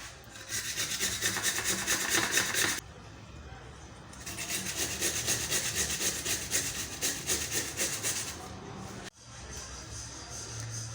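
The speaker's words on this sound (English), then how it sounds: "Next, we're going to grate our carrots." Carrots rubbed against a hand grater in a kitchen, steady raspy back-and-forth scraping in long runs with a couple of brief breaks, fairly close and alone without talk.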